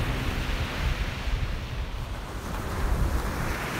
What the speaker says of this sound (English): Boy, that wind is just whipping.